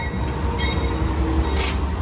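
Inside a moving train carriage, a loud steady rumble of wheels and running gear fills the space with a continuous low roar and a faint whine, and there is no talking.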